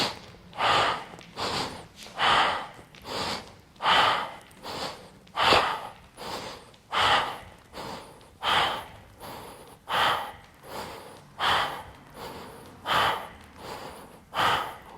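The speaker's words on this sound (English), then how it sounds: "20 rounds, inhale down, and exhale up." Deep rhythmic breathing during a yoga class for legs and glutes, about a dozen slow audible inhale-exhale cycles, close and steady, with no talking.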